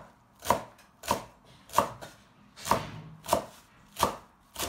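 Knife chopping fresh celery into short segments on a cutting board, seven steady, evenly spaced thuds, close and clear with no talk.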